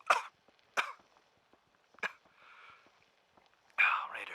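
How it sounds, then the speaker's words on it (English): A character coughs in the video game Fallout 4 during a survival playthrough: several short, dry coughs spaced out over a few seconds, close and isolated, ending in a harsher, longer hacking burst. "That cough is getting worse, Mal."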